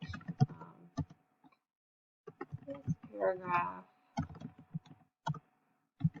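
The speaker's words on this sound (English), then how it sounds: "I'm going to start typing this out." Sparse computer keyboard typing while formatting an APA paper, isolated key clicks and short bursts spaced irregularly between pauses, close and fairly quiet, with a speaker talking in between.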